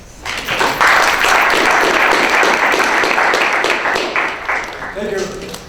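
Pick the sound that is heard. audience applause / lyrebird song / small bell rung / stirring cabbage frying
audience applause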